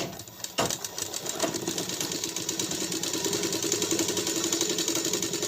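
A sewing machine runs steadily while stitching a blouse, a fast, even mechanical whirr and rattle close by after a brief start, with no talking.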